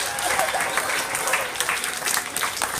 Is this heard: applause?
yes